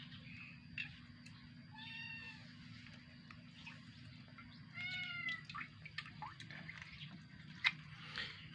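A cat meows several times, short plaintive cries spaced across a few seconds, wanting raw mackerel in a quiet setting with faint dripping and low background hum.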